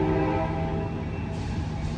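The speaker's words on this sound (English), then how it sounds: "There go that train off to Sacramento." Amtrak Capital Corridor train with an F59PHI locomotive pulling out of Oakland Jack London Square station, a steady loud rumble of engine and rolling wheels filling the air without pause, no voices.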